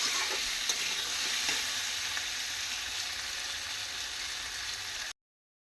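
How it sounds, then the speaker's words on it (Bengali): Green and dried chillies with nigella seeds temper in hot oil, giving a close, steady sizzle with small pops. It runs for about five seconds and then stops abruptly. "দুটো হচ্ছে কাঁচা লঙ্কা আর একটা শুকনো লঙ্কা, শুকনো মরিচ আর কালো জিরে দিয়ে ফোড়ন দিলাম"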